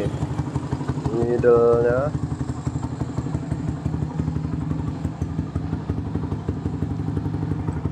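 A Suzuki Shogun R110 motorcycle fitted with an Andy Speed exhaust idles steadily after starting, a close, continuous engine putter with a low pulsing beat that runs the whole time, while a voice talks briefly over it near the beginning.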